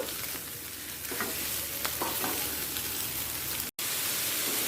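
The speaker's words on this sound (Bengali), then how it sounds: "এরপর আলুর সাথে সোয়াবিনটাও দিয়েও ভেজে নেব একটু" Potatoes and soybean chunks fry in oil in a pan, giving a steady, close sizzle with a few scraping stirs; a short dropout interrupts it near the end.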